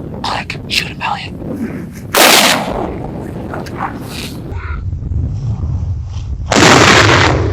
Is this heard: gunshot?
yes